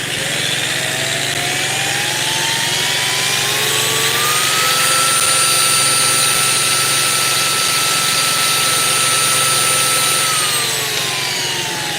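A rotary polisher spins up to a high speed setting with a damp pad, giving a loud, steady, close whine whose pitch climbs, holds, then eases slightly toward the end, with no talking.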